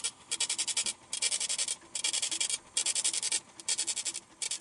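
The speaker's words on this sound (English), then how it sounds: "Hear that? That endless receipt printer." Receipt printer running in repeated bursts, a faint, fast rasping whir with a steady rhythm of short pauses between lines, heard alone.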